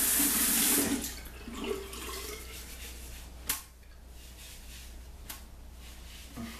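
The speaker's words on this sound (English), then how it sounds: "A little bit of water on here." Tap water runs onto a white-bristled shaving brush, a steady close splashing wash with a louder burst at the start and a few small knocks along the way.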